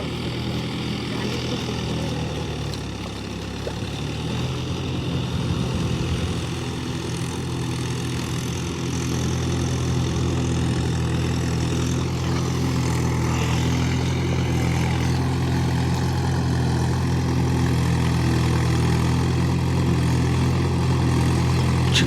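Tractor engine running steadily in a waterlogged paddy field, a loud low drone that holds and slowly builds for the full stretch, with no talk.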